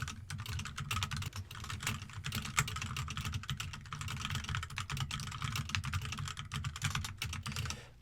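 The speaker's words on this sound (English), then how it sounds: "I'm typing whatever I want to type" Rapid, steady typing on a computer keyboard, close and crisp, with dense clicking keystrokes running continuously and no voices over it.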